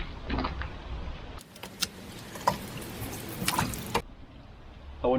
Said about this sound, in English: so I'm washing the car again.